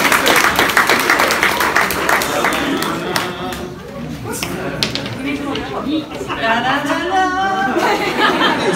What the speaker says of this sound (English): Everyone, leave her a round of applause for coming to the